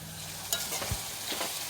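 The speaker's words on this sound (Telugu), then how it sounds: "ఇక్కడ టమాటాలు నూనెలో మగ్గుతున్నాయండి" Tomatoes frying in oil for potato kurma, a steady close sizzle with a few soft scrapes and knocks of stirring.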